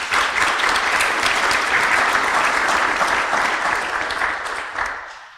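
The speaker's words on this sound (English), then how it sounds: "applause for our sponsors" Audience applause at a medical expo, a sustained dense clapping from a crowd that holds steady for several seconds before tapering off at the end.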